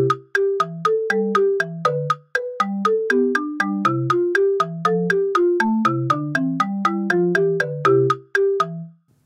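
A bright electronic melody of short, evenly spaced synth notes over a plodding bass line, made in an online music sequencer, playing steadily with one brief pause near the start.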